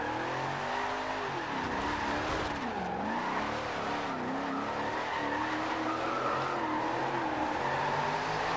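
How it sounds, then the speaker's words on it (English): Shelby Cobra 427 in Forza Horizon 2 during a drift run, its engine note rising and falling in the mid-range with tire squeal and skidding, loud and steady throughout with no talk. "I can't rev it all the way out. I have to keep it like in the mid-range."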